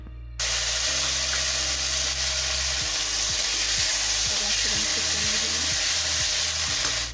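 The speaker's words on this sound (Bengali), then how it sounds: "এখন আমি কড়ার মধ্যে দিয়ে দিচ্ছি কালো জিরে ফোড়ন আগে থাকতে একটা বড় টমেটো কুচিয়ে রেখেছিলাম সেটা এখন দিয়ে দেবো" Loud, close frying in a wok as black cumin seeds are tempered in hot oil and chopped tomato goes in, a sudden burst of sizzle that holds steady, with low hum and spatula scrapes underneath.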